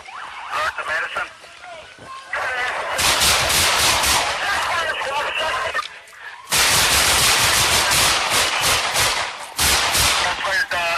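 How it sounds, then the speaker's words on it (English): Multiple gunshots in an urban police incident, sharp loud bursts repeating in irregular clusters, close and dominant, with breaks between volleys and possible siren or radio noise mixed in. "Shots fired again. Shots fired. Use caution. 6-3 multiple shots fired."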